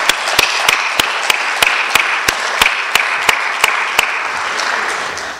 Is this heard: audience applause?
yes